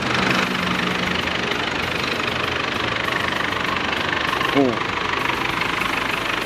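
A Mazda BT-50 pickup's diesel engine, after a snapped timing belt, idles steadily up close, a rough, even low rumble with a ticking knock, with a brief squeak partway through.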